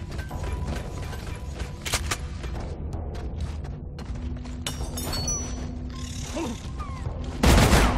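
Rapid bursts of gunfire and heavy booms in the co-op mining shooter Deep Rock Galactic, dense and continuous with clattering mechanical noise and a loud blast near the end.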